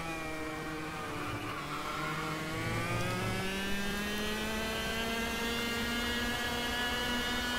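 A 125cc direct-drive go-kart engine in a virtual karting sim at Interlagos drones steadily, its harmonic pitch climbing slowly as the kart accelerates, loud and close throughout with no talk.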